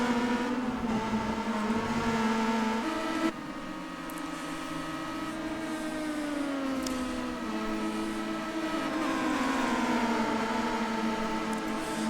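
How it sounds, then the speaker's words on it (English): Star Mazda race cars at Interlagos in a racing game produce layered, sustained engine whines that rise and fall in pitch as several cars rev through gears, with a brief dip partway through. "the 2 Redback Racing Star Mazdas coming into the corner"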